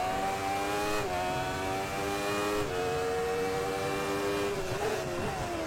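A race car engine at around 200 mph in a racing video game holds a steady, loud, high harmonic whine, with brief pitch drops near one and three seconds as gears shift. No one talks.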